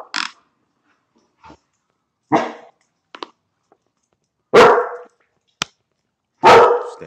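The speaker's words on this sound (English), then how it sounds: "He barking heavy like he he barking like he gonna do something." A puppy barks in sharp, loud bursts, about five spaced barks with a couple of short yips between them, close by, with silence in the gaps.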